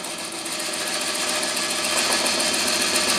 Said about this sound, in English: it's a lot easier to use the bevel rubbing cut